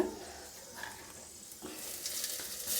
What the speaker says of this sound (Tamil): சீரகம் எல்லாத்தையும் போட்டு நல்லா ஒரு ரெண்டு நிமிஷம் இந்த எண்ணெயிலேயே வணக்கி விட்டுக்கலாம்